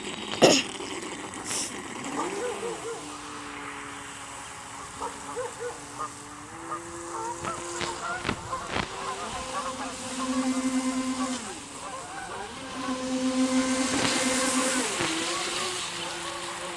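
A small radio-controlled boat motor whines and buzzes, rising and falling in pitch as it speeds across water, with splashes and a few clicks and knocks nearby.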